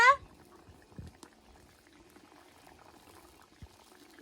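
Curry broth simmers in a pot on a clay stove in a village kitchen, a low, steady bubbling with occasional soft pops, joined by a brief high chirp at the start.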